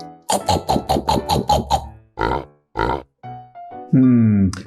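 A cartoon pig on a farm gives a run of about eight rapid, loud grunting oinks close up, then a few separate grunts and squeals, each burst alone with short silences between.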